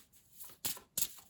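Tarot cards shuffled in short bursts: two crisp riffling snaps, close and fairly quiet, after some faint handling rustle.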